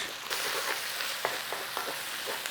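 Bacon and onions for a German onion tart fry together in a pan with a dense, continuous sizzle. Light scrapes from stirring come through now and then.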